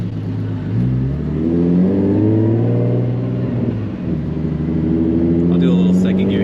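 A Nissan Z, running slow, revs in second gear under acceleration, a loud steady engine drone with rising harmonics that dips briefly near the middle and then climbs again, heard from inside the car.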